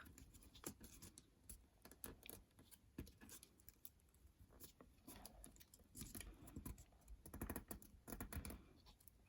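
Paper being folded for an origami crane, with soft faint crinkles, rubs and creases arriving in irregular bursts, quiet and close, growing busier toward the end.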